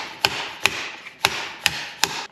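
Metal hammer driving a bushing down into a motorcycle fork lower on an old Harley-Davidson Shovelhead: five sharp, ringing strikes, evenly spaced about every half second, each decaying quickly, with no talking.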